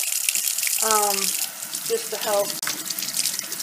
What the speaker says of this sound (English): So first I'm just going to run them under cold water for a little while,